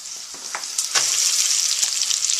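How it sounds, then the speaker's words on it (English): Chopped onion sizzles loudly as it drops into hot oil with toasted cumin seeds, giving a steady bright crackle with a few sharp spits near the start. "Listen to that sizzle."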